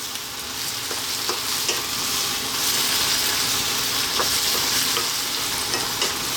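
Napa cabbage fries on high heat with a little salt, a continuous loud sizzle with intermittent scraping clicks as it is stirred constantly in the pan.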